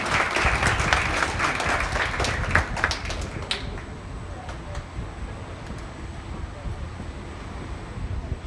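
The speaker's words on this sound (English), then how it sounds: "Let's give them all one more round of applause for a job well done." A crowd at a junior livestock show claps for about three seconds, outdoors and moderately loud, before the applause stops and wind noise and faint background sounds remain.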